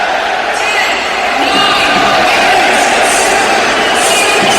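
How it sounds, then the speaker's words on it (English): Stadium crowd at a World Cup match between the USA and Wales, chanting along with the kickoff countdown; a loud, dense and steady roar of many voices fills the whole stretch. "Crowd are joining in."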